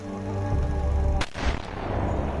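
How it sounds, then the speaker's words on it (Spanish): Gunshot sound effect for a crime documentary about a woman shot in her home's bathtub: a single loud, sharp report cuts through a dense rumbling background, followed by a lingering boomy tail. "María Marta García Belsunce es abatida a tiros en la bañera de su casa"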